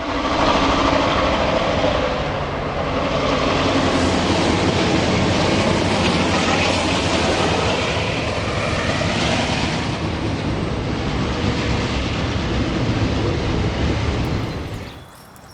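Four ABBA F7 diesel locomotives lead a westbound train at Norden on Donner Pass in the Sierra Nevada, a loud, continuous diesel roar and rumble of passing rail cars that holds steady throughout and then drops away abruptly at the end.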